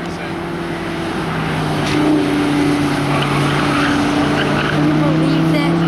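A Lamborghini weaves around cones on a South Philly course, its engine holding a steady, loud drone with a sustained tone and faint tire noise layered over it.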